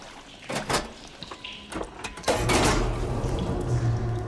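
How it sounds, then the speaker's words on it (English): Machinery in the Horizon Forbidden West video game switching the water flow, with clanks and knocks followed by a sustained rushing, rumbling flow that continues to the end. "Sounds like the water's switched."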